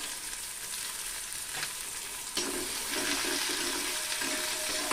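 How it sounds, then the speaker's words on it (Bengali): Finely chopped onions hit a hot pan and sizzle loudly, a brief quieter hiss giving way to a sudden burst of steady, bright frying that continues at close range without any talk. "পেঁয়াজটাকে একটু গোল্ডেন কালার করে একটু ভেজে নেব"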